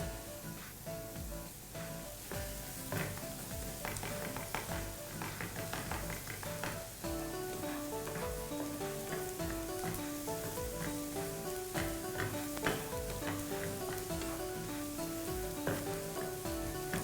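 Chopped garlic fries over high heat in a hot pan for Thai squid with garlic and pepper. A dense, continuous sizzle and crackle carries steadily throughout, with light taps and faint tonal music underneath.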